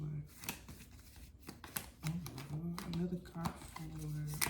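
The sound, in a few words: shuffling tarot cards to draw another card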